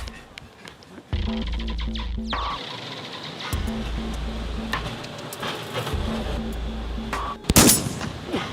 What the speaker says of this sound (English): There's a guy with a gun. He's shooting.